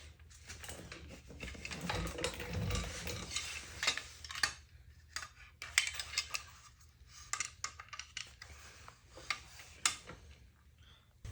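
Bolts being tightened on a Tuttio upgrade kit: small metallic ticks, clicks and ratcheting taps in irregular clusters, close and fairly quiet, with a soft low rumble early on.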